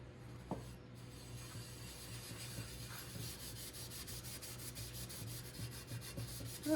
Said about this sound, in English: Maybe you're just supposed to rub it in.